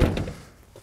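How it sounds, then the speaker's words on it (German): A Pössl Roadcruise camper van door shuts with a single close, dull thunk that fades quickly, with no voices. "Einfach Tür zu."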